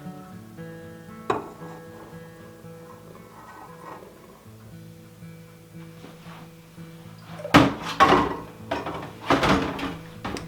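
A spoon works dry ingredients into a molasses mixture in a bowl, heard as a few scraping, knocking bursts late on. For most of the stretch, soft tonal background music plays with only a lone click before them.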